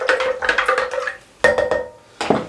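Metal spoon stirring sugar into lychee juice in a cooking pot, with a few bursts of clinking and scraping against the pot sides, brief pauses between, close and fairly loud.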